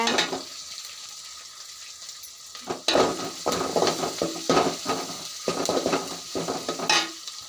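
Ingredients sautéing in a pan for a village-style curry, with a steady frying sizzle and repeated scraping stirs and clinks of a utensil against the pan, close and fairly loud, with no talk.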